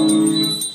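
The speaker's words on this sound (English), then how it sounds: "please ring the bell as you do so" A ritual bell rung during a Hindu food offering (naivedyam), giving a loud, sustained ringing tone with steady overtones that fades slightly over a brief moment, with no speech.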